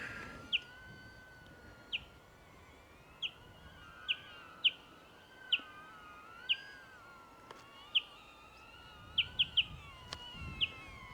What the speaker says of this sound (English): Look at this bird. It's massive.